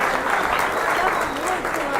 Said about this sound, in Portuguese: mais palmas aqui, cara